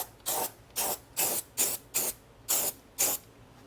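Black spray paint goes onto hot off-road shock absorber parts in eight short, even hissing bursts, each about a quarter second, close and fairly loud with brief gaps between.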